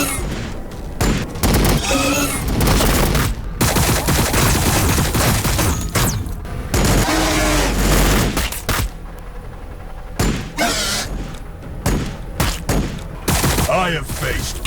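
Dense overwatch gunfire in the Warhammer 40k Battlesector strategy game, loud continuous volleys of shots and booms layered over battle effects, with brief voiced unit callouts mixed in.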